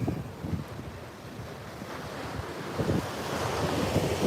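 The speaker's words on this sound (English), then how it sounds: "I hope you can hear me with this wind in my back." Strong coastal wind buffets the microphone with a continuous roaring rumble, and the wash of surf sounds underneath.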